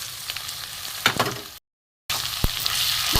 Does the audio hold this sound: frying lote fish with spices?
yes